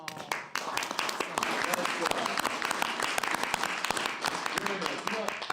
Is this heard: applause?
yes